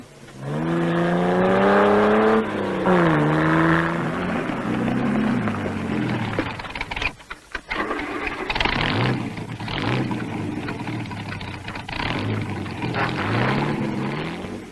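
Rally cars climbing the Gavia hairpins in the 1958 Coupe des Alpes, engines revving and rising in pitch through the gears, then a passing roar, followed by further engine noise and acceleration from cars farther off.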